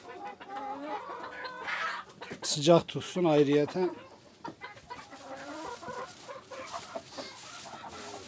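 Hens clucking and squawking nearby on a snowy day, with one louder burst of cackling midway, while a person talks over the birds.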